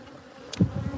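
Honeybees buzz close by around an open hive during a honey harvest, a dense insect drone with a brief louder burst as bees rise around the frames.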